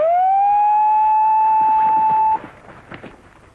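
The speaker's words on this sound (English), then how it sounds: "After the buzzer has sounded" A single loud electronic start buzzer for a paragliding launch in Bir, Himachal Pradesh, India, rises briefly then holds steady for about two seconds before cutting off, leaving faint background noise.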